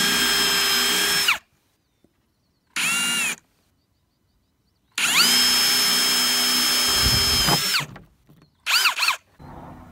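A power drill bores a hole through the wall of an aquaponics main tank with an undersized bit, running in loud whining bursts: a long run, a short burst, a longer run, then two brief stuttering pulses, separated by silence.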